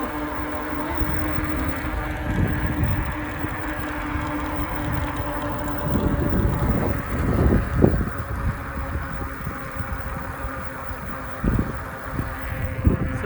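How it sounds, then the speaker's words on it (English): Wind buffeting the microphone while cycling against a 15-mile-an-hour breeze, a constant low rumbling roar with gusty swells and a steady drone, no talking. "15-mile-an-hour wind"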